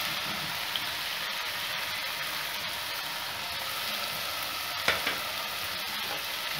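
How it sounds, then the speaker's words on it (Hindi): Garlic sautéing in a pan for Pakistani dhaba-style moong daal tadka gives a steady, close sizzle throughout, with a brief clink of a utensil near the end and no talking. "लहसुन हमारा हो रहा है सोते"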